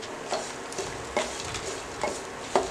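A spoon stirs a sautéed tomato mixture with roasted gram in a pan, giving about five distinct scraping strokes over a soft background sizzle, near and unaccompanied by talk.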